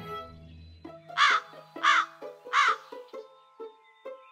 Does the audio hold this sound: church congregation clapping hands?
no